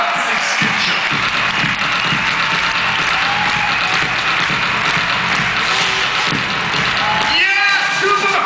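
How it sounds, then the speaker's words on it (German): A big crowd claps steadily at the Masters of Dirt 2014 freestyle motocross show, where a tandem dirt bike act performs. The applause is dense and continuous, with voices and shouts mixed in, and rises toward the end. "Es muss ein bisschen lauter werden, du musst es klatschen hören."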